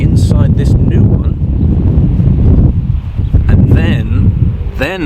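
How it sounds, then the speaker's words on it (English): Heavy wind buffeting rumbles against the microphone throughout, loud and continuous, with a person speaking over it. "I mean, it's very windy where I'm at right now."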